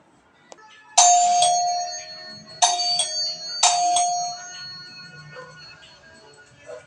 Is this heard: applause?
no